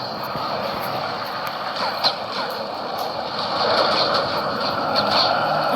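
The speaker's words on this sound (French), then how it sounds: "Bonjour l'avion. Il y avait un avion" An airplane flies over during a live event in the Fortnite video game, a steady broad engine roar that swells slightly toward the end, with faint background sounds and no clear talking.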